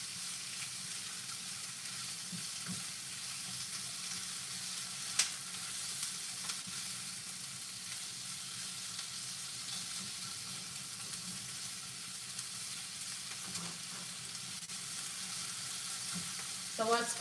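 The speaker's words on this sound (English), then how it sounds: "put my stove on low heat, saute my onions, you know, let them loosen up a little bit" Onions sautéing in a pan on a stove at low heat, a steady quiet sizzle throughout with occasional faint stirring clicks.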